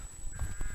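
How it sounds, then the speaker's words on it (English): A crow caws in short bursts outdoors in spring, fairly close and clear over a low background rumble, with no talking. "I can hear a crow going quack"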